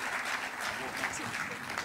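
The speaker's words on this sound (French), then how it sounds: "On peut applaudir encore le CA Plopsheim et toutes les filles" An audience at a football awards ceremony applauds the CA Plopsheim women's team, a soft, continuous patter of clapping heard at a distance with voices murmuring underneath.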